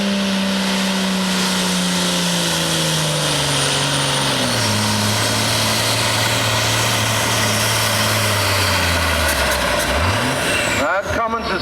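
A hot Cummins engine in a farm pulling tractor at a Boonsboro tractor pull roars loudly, its pitch sliding lower as the load builds before dropping off near the end, while an announcer talks over it.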